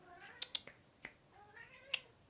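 A cat meows insistently indoors, several short, sharp meows in quick succession followed by a longer, drawn-out cry and one more meow, fairly close.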